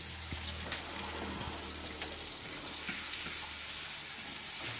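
Cauliflower pieces fry in coconut oil in an iron pan, making a soft, continuous sizzle with a few light clicks and pops scattered through it, heard alone and fairly quiet.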